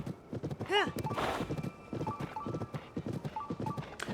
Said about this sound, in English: Oh, this horse kind of sucks.